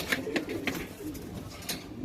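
A homing pigeon in a Hyderabad fancier's loft gives soft, low repeated coos, faint and fairly close, with no voices.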